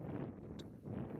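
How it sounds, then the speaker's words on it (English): Wind buffeting across flat, treeless Texas prairie, a faint low rushing roar that swells, dips briefly and rises again. "as you can tell by how windy it is right here"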